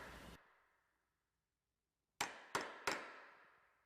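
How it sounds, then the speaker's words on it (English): Hammer striking a 1-inch chisel to cut a recess in a wooden door for a deadbolt strike plate: one sharp hit with a ringing decay, a pause, then three quick crisp blows close to the microphone, no talking. "Using your 1-inch chisel and hammer, we're going to chisel for the back plate."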